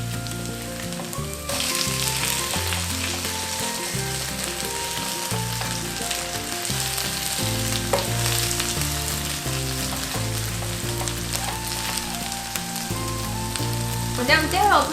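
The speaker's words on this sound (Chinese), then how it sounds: "反正要把那面煎到硬了。" Potato slices pan-frying in a hot pan, browning until crisp, give a steady close sizzle throughout, with a musical soundtrack running over it.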